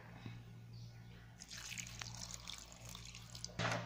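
Faint, soft splashing and trickling as a little water is poured into sambar powder and salt in a Kerala kitchen, quiet at first, then a longer hissing pour and a brief final gush.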